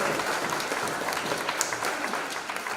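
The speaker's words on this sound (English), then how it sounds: "Please give Greg Aguilan a round of applause." A congregation at a Sunday service applauds a guest coming up, a dense, even wash of many hands clapping filling the short stretch.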